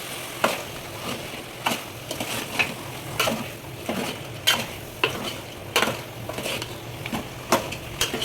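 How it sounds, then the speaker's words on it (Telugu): Fenugreek leaves are stirred into chicken in a pan. Regular scraping strokes of a spoon recur about every half second to second against a steady background sizzle, close and fairly loud, with no voices. "మెంతం కూర వేసుకొని బాగా కలుపుకోవాలి."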